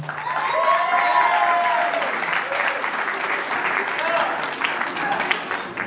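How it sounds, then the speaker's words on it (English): Party audience applauding at a company holiday party, sustained dense clapping with a few cheers, filling the whole stretch at close range. "A round of applause to all of you right now."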